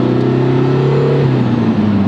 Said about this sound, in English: I really love the turbo flattering, that wastegate